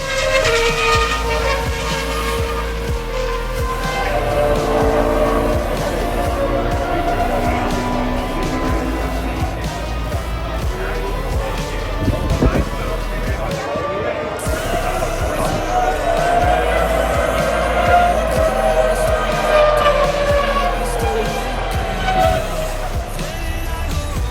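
Naturally aspirated V8 and V10 Formula 1 cars run laps at the Austrian Grand Prix, engines roaring steadily throughout with rising and falling pitch as they pass, over a constant crowd murmur.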